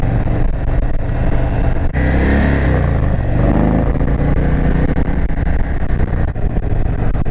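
Indian Super Chief Limited motorcycle engine pulling from low RPM in gear, a loud, close, continuous deep rumble with wind rush and a brief shift in tone partway through.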